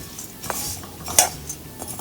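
Dry coconut roasts in a pan as a metal spatula clinks and scrapes against it, with a few sharp, close taps over a quiet background.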